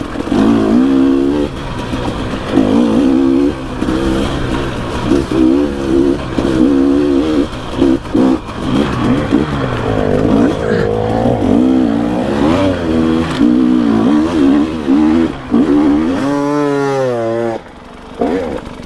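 Dirt bike engine roaring loud and close while riding downhill on Pacific Northwest singletrack, a continuous revving drone that rises and falls with throttle, dipping near the end.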